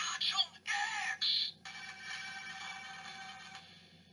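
A Kamen Rider Ex-Aid DX Gamer Driver toy belt plays its electronic activation sound after a button press. Short bright synthetic tones in three bursts are followed by a fainter, longer electronic sound, all at low volume.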